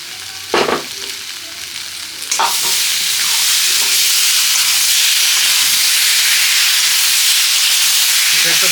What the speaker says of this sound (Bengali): এটা একটু ভেজে নিলাম তেল আর হলুদ দিয়ে, এই লবণ দিয়ে